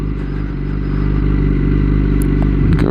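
A Kawasaki ZX-10R sport bike idles in neutral, a steady loud low engine rumble with slight clatter that holds even throughout, a couple of brief clicks near the end.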